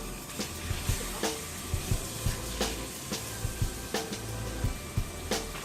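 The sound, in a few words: steak sizzling in butter in a hot pan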